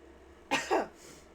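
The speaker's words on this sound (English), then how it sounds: "I coughed and sneezed at the same time." A person lets out a combined cough and sneeze, two quick close bursts in under a second, loud against quiet room background.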